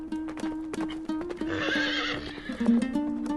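A Mugalzhar horse whinnies loudly over close, evenly paced hoof clip-clops that beat steadily throughout.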